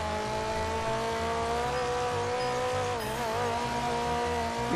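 A fast sports car's engine screams past in GTA 5 roleplay, held at a steady high-revving drone with a brief pitch swoop midway. Loud and continuous, with no talk over it.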